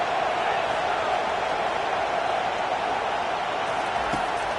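Dense, steady roar of a large football stadium crowd in a college game between Ohio and Louisville, a continuous wash of noise aimed at disrupting the offense pinned deep in its own end.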